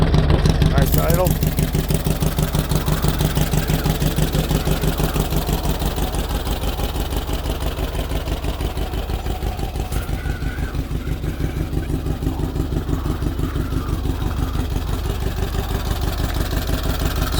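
A rebuilt 1641 cc engine in a 1974 Karmann Ghia idling steadily, a loud, even throb with a fast regular pulse throughout and a brief rougher moment just after it catches.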